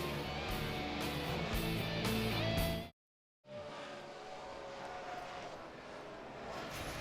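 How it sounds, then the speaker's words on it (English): A helicopter passes over the Dover racetrack during NASCAR truck practice, a steady loud rotor and engine roar with rhythmic pulsing, briefly cut off by a gap before resuming at a slightly lower level. "That's a black helicopter painted blue, though."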